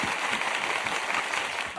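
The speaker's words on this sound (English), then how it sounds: "clap it up for him" Studio audience clapping for guest Joe Wesley on a cooking show, a steady dense patter of hands throughout with no voices over it.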